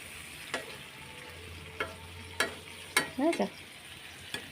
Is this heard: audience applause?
no